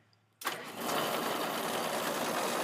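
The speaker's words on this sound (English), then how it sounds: "All right, we're ready to start the engine up." Engine of a Willys CJ2A jeep fitted with a Koenig winch cranks and catches after a brief quiet moment, then settles into a steady, loud running rumble that continues to the end.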